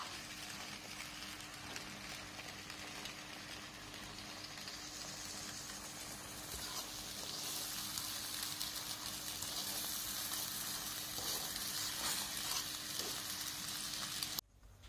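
Spicy ramen seasoning sizzling in a pan: a steady, dense hiss runs throughout with no talk, grows louder about halfway through, and then cuts off abruptly at the end.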